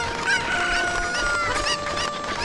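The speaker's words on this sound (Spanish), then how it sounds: "Y poder rescatar a otra gallina." Synthesized chicken clucks from the Zelda: Ocarina of Time video game, layered over steady music tones across the whole stretch, with no talking.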